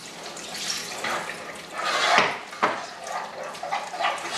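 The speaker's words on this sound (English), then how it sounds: "I'm going to add another cup of water." A cup of water is poured into a pot of bacon cheese potato soup paste on a stove: a steady, close splashing pour with brief gurgling surges, with no talking.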